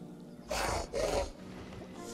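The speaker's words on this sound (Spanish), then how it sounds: "ese llamado del Dilophosaurus no lo había escuchado anteriormente" A Dilophosaurus in the park-building game Prehistoric Kingdom lets out two short, rough roaring calls in quick succession, moderately loud against a quiet ambient background.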